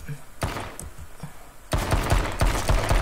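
Gunfire from the online battle royale game H1Z1, starting as a few separate sharp shots and then breaking into a dense, loud burst of rapid fire that fills the second half.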